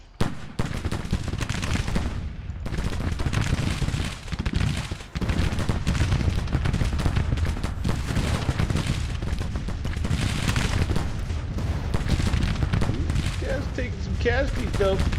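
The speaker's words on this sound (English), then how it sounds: "Guns should be able to just blast them with cannon." Cannon and rifle fire in the Grand Tactician strategy game, a dense, continuous roll of shots and booms across about fifteen seconds, loud and sustained with a brief lull near the start.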